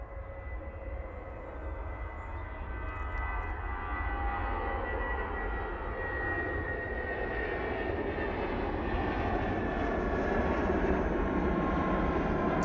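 An airliner roars on departure from Manchester Airport, bound for London. It is a continuous broad engine rumble that slowly builds and holds loud throughout with no other sounds over it.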